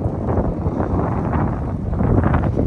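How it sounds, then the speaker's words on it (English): Strong headwind buffeting the microphone of a cyclist riding along a flat alpine valley road, a loud continuous roaring gust noise with no talking. "There is a serious headwind though along this road."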